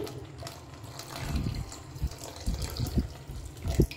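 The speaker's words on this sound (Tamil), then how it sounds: "அடுத்து நம்ம அரைச்சி வச்ச தேங்காய் பால் எடுத்து ஊற்ற போகிறோம்" Ground coconut milk poured into a pot of black rice millet payasam on low heat, a soft liquid gush and splash with a few louder spatters, close and alone.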